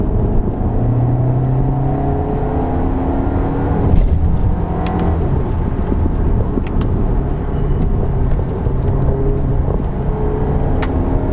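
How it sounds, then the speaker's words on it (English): Steady loud engine drone from a 2025 Volkswagen Tiguan, with a low rumbling grunt holding through and no clear rise in revs, the drone continuous for the whole stretch. "Nice grunt from the engine."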